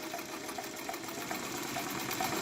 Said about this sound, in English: Yeah, my sewing machine is loud.